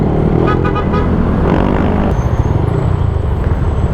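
Road traffic around a motorcycle club ride in the Philippines, with a steady near rumble of cars and trucks, a horn toot early on, and engine noise continuing throughout.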